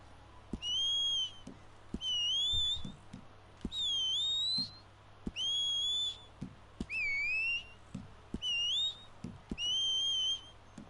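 A sequence of seven short, clear whistles, each about a second long with a rising or bending pitch, spaced evenly over soft clicks: the horse-calling whistle in the video game Red Dead Redemption 2.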